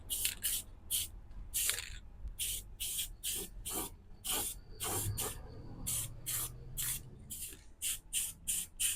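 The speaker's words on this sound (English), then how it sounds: "I'm going to paint everywhere that's inside plus everywhere that's going to get a spot weld or a plug weld" Aerosol spray paint hisses in repeated short bursts while coating the inside of a sheet metal tool box, close and fairly loud, with faint handling noise between sprays.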